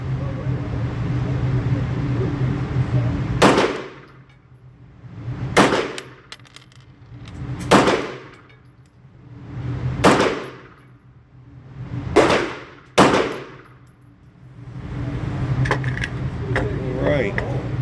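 Bul Armory SAS2 Tactical Government pistol fired at a target on a range, six loud sharp shots spaced roughly two seconds apart with ringing decay, over a steady background hum and some faint talk.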